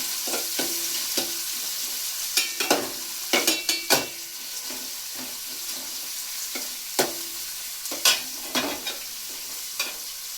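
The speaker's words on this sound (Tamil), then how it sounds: "வெங்காயம் போட்டுங்க. போட்டு கொஞ்சம் நல்லா வதக்குங்க." Onions sauté in a pan for vegetable white pulao, with a steady soft sizzle and a string of sharp spoon scrapes and taps as they are stirred, close and without talk.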